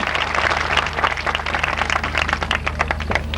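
An audience applauds at a gaushala gathering in Sultanpur, a dense, even patter of many hands clapping continuously.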